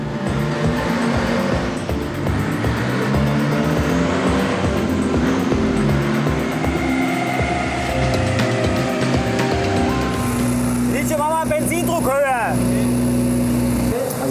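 A Volvo 240 Turbo race car accelerates hard on a dynamometer, its engine climbing through gears with loud, continuous revving and shifts; a voice talks over it, and near the end the roar gives way to whining, sweeping tones.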